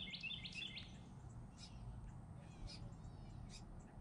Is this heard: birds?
yes